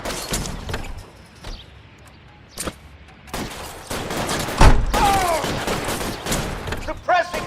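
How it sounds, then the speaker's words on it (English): Gunfire in the video game LA Noire: scattered sharp shots and short bursts, some loud and close, others farther off, with pauses between volleys and brief shouting voices mixed in. "Suppressing fire!"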